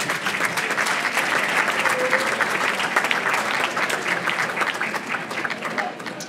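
A room of guests at the 18th annual Valley Patriot Bash in Lawrence, Massachusetts gives Al a steady round of applause, dense even clapping that carries at the same loudness throughout and tapers slightly at the end.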